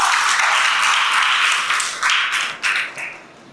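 An audience at a high school admissions information session applauds a first-year student speaker, a bright, close burst of clapping that tapers off over a few seconds with a few last scattered claps.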